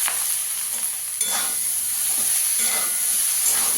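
A spoon stirs a tomato curry with chopped tomato and coriander leaves in a pan, giving a steady close sizzle and hiss with a few scraping strokes. There is no talking.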